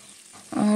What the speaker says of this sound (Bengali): এখন আমি পেঁয়াজ বাটা দিয়ে তাতে সম্পূর্ণ মশলাগুলো দিয়ে দিব